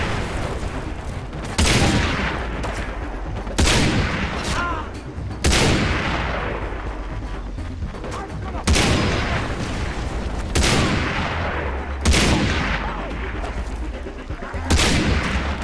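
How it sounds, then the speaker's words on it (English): Repeated bursts of gunfire from many enemies in Far Cry 3, loud sharp shots and booming volleys recurring every couple of seconds over a continuous noisy battle background. "And now there's too many people shooting at you."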